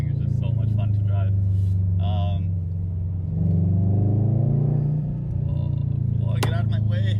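A Subaru WRX STI sports car drives with a steady low engine drone that swells briefly midway, while a person talks over it inside the cabin.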